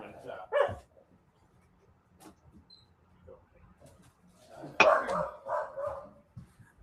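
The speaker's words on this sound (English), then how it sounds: "Have a barking dog there." A pet corgi barks indoors during a live conversation, one sharp bark early and a louder burst of barking near the end, with quieter room sounds between.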